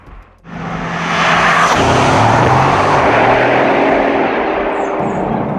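A turbocharged sports car engine surges from a low idle into a loud, sustained roar of hard acceleration, the tone climbing through the run and staying close and powerful.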